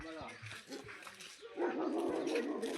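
A caged dog barks and whimpers in short yips at an animal enclosure housing birds and animals, with people talking over it throughout.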